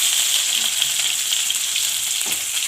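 Ginger sizzles steadily in a hot pan of oil while masala pasta is being cooked, a dense, close, continuous frying hiss with no voices.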